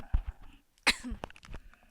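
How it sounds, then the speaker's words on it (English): A sharp cough rings out close to the microphone, surrounded by faint rustling and small mouth noises in a quiet room. "How dare you cough in my ear?"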